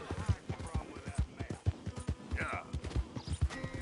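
Horse hooves clip-clop steadily in the video game Red Dead Redemption 2, a regular rhythmic beat of hoof strikes running through the whole stretch, moderately loud, with a voice speaking briefly over it.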